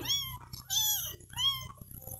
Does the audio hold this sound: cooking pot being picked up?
no